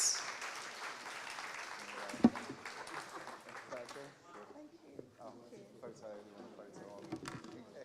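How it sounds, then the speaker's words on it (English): An audience at a conference session applauds for the panel, a loud burst of clapping up front that thins out and fades while a voice talks over it. "Round of applause for the amazing panelists."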